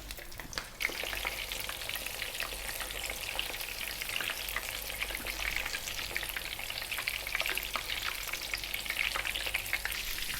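Prawns fry face down in a hot pan, crackling and sizzling continuously at a close, even level, with dense popping spatter throughout.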